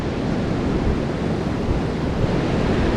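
Sea waves breaking on Lhoknga beach in Aceh, heard as a continuous broadband roar of surf with no pauses, loud and close.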